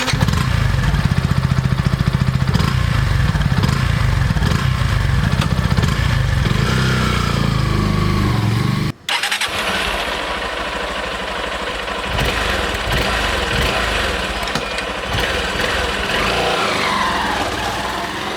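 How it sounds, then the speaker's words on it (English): Two motorcycle engines, a Honda Unicorn BS-6 and a Yamaha FZ-S v3.0 BS-6, are heard one after the other, each idling with a throaty, pulsing exhaust note, separated by a brief cut. "if you want to take a listen to the exhaust note of both these bikes"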